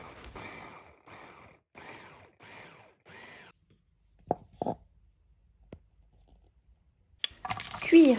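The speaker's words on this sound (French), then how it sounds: "comme pour une duxelle de champignons, hachez très finement" A knife chops mushrooms finely on a board in five evenly spaced, crisp bursts, followed by a few sharp isolated clicks and a louder clatter at the end.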